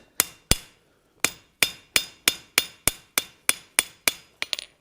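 A hammer forges a hot iron latch with about a dozen sharp, ringing blows in a steady rhythm, close and loud, ending in a quick flurry of lighter taps.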